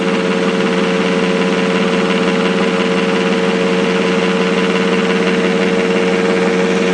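A small box motor with coils spins steadily on variac power, a loud continuous hum with a strong tonal whine and buzzing vibration, unchanging throughout.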